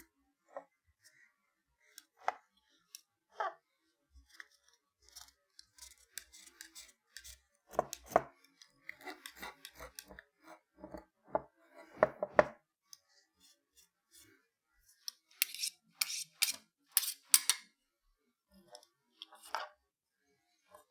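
A knife scrapes thorns off nopales cactus paddles on a cutting surface, giving irregular close scraping and tapping strokes that come in bursts, with a brighter run of rapid strokes near the end, and no talk.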